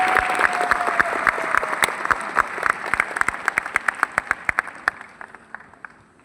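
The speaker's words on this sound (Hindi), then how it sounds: "मैं चाहता हूं इनके लिए इस हॉल की सबसे जोरदार ताली होनी चाहिए।" A hall audience at a business gathering applauds loudly, dense clapping from many hands that later thins into a run of distinct, sharper claps and tapers off near the end.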